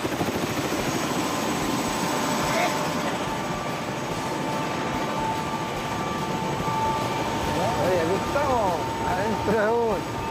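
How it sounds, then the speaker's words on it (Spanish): A helicopter flies over mountains in Southland, New Zealand, its steady rotor-and-engine drone loud and constant throughout, with people talking over it. "Arriba un helicóptero para sobrevolar las montañas de Nueva Zelanda."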